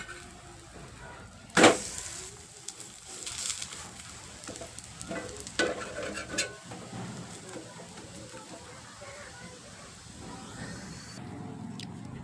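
Leftover chapati frying in oil in a pan, a soft continuous sizzle with a sharp splash of oil early on and scattered crackles, with a voice speaking over it.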